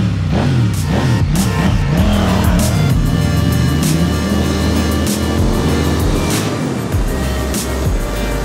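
A KTM 890 Duke R sport motorcycle engine revs loud and close, a continuous throaty roar with rising and falling pitch sweeps as the throttle is worked, dominant throughout.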